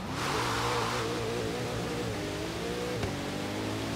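A Bugatti's engine revs hard at the start of a wet-weather race in Forza Horizon 3, rising through the gears with a brief dip at a shift, loud and close throughout.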